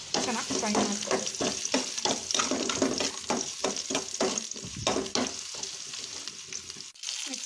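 Cumin, onion, chilli and curry leaves frying in a pan for a tempering: steady, close sizzling broken by repeated scraping stir strokes in an irregular rhythm, with no talking.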